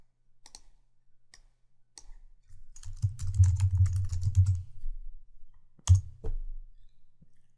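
Close computer keyboard typing in a quick burst of soft taps, with separate sharp mouse clicks before and after, in an otherwise quiet room.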